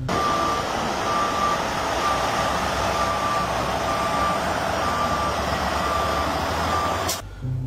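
Steady reversing beeps from a toy tow truck repeat at an even pace over a loud, continuous rumbling hum, then stop abruptly near the end.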